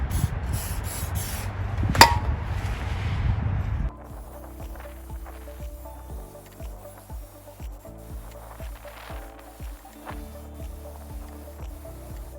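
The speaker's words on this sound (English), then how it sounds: "Before I put the rotor, I'm gonna clean the hub first for maximum contact." Scrubbing and spraying on the front wheel hub of a 2009 Porsche Cayman during a brake rotor job: a few seconds of loud broadband rubbing and hissing, then quieter steady background with faint tonal sounds.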